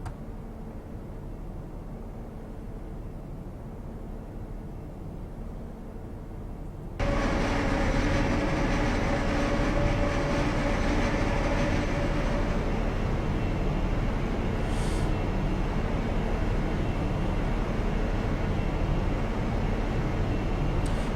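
Class 43 HST diesel train in Train Simulator 2015 on the Riviera Line, a steady low rumble that steps up to a louder, fuller engine and rail roar about a third of the way in and holds continuously.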